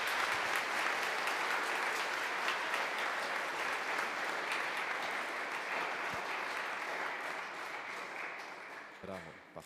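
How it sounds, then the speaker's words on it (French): Sustained applause from a congregation at a first communion service, dense and steady clapping that slowly thins toward the end, with a few voices underneath. "On l'applaudit."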